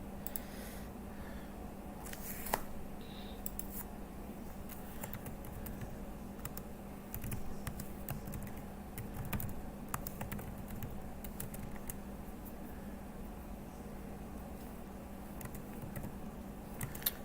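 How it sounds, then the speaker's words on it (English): Fingers type on a computer keyboard in quiet, steady bursts of light clicks and taps, close by and continuing throughout over a low room hum. "let me get all this typing in there for you, Will."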